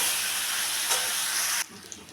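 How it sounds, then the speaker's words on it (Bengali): Taro, potatoes and prawns frying together in spice paste, giving a steady broad sizzle and hiss for most of the moment before it drops abruptly to a quiet low hiss near the end. "গাটি কচু, আলু, চিংড়ি মাছ সব একসাথে দিয়ে আমি এখন এটাকে আবার একটু কষিয়ে নেব"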